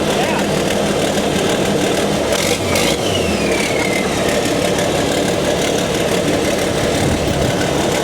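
A bulldozer engine runs steadily and loud throughout with a turbo spinning, a continuous mid-to-low drone with a faint whistle rising briefly near the middle and a short break in the rumble around the third second.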